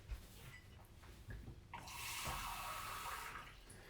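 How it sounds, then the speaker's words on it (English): About 100 millilitres of water is poured into 200 grams of flour for a vegan flatbread dough. A quiet splashing pour rises and continues for around two seconds after some faint handling noises, with no voices. "I'm going to put 100 millilitres of water"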